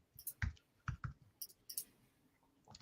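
Keys clack on a computer keyboard in a few quick bursts of close, crisp clicks, with short pauses between them.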